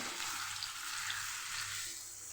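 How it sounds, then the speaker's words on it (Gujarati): Semolina sheera being stirred constantly as it cooks in ghee over a very low flame, a soft, steady frying sizzle with faint scraping, close and continuous. "સતત આપણે હલાવતા રહીશું"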